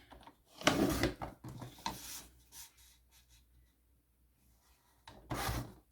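Scissors or a trimmer cutting paper strips into small squares for a planner, giving close, dry rasping cuts in a few bursts separated by quiet gaps.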